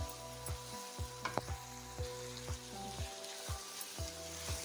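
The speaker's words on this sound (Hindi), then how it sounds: "और अब इसकी मैं बुनाई कर लूँगी व्यूवर्स।" Mutton mince sizzles quietly as it is fried in a pan, a soft continuous crackle broken by regular scraping strokes of a spatula stirring the meat.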